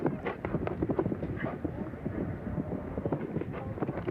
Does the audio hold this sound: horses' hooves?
yes